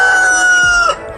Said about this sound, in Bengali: আমার বন্ধু মুরগি আজান দিয়েছে